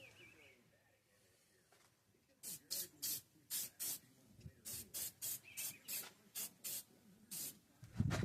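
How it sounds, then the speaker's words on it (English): Short bursts of battery terminal protection spray hiss onto a 2000 Ford Mustang battery terminal in a rapid irregular series, close up and loud, after a quiet stretch with faint background noise. "I have this battery terminal protection spray."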